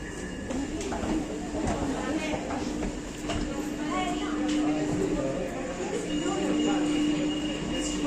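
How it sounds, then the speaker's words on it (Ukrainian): A subway train on Rome's orange Line A rumbles and pulls away with rising mechanical noise, while a voice talks over the station din. "Ось, на жаль, уже метро від'їжджає, не встигли трішки."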